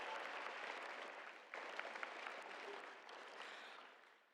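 An audience at a high school graduation ceremony applauds the guests, with dense, sustained clapping from a large crowd that holds steady for the whole stretch and eases slightly toward the end.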